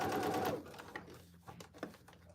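A sewing machine runs a short burst of stitching along a cargo pants seam, loud at first, then fading into scattered soft clicks and handling noises.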